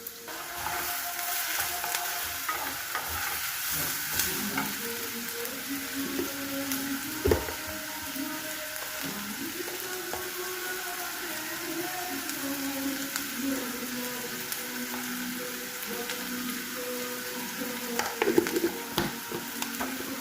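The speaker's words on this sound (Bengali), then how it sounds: "অল্প আঁচে ধীরে ধীরে ভাজবো।" A pan sizzles gently and continuously over low heat while a Bengali poppy-seed dish fries, with occasional stirring scrapes and clicks through the steady hiss.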